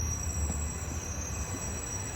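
A train rumbles steadily with a low, continuous drone and a thin, high tonal whine running through it, with no voices.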